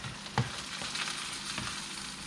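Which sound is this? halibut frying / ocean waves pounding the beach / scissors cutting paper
halibut frying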